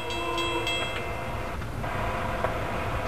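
SEPTA Silverliner V test train nears a level crossing in Pennsylvania, a steady low rumble with horn tones sounding near the start, heard alone at moderate distance.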